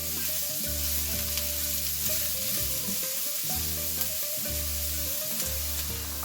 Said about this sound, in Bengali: আমি 1-2 মিনিট এটাকে ভেজে নিয়েছি।